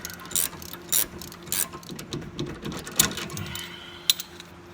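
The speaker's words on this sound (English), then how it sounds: "my pass-through Craftsman tool ratchet that I love so much" A Craftsman pass-through ratchet tightening a sway bar bolt on a Mustang, with quick clicking ratchet strokes in short bursts, close and crisp, with no talk.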